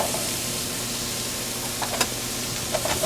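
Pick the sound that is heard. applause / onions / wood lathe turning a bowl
onions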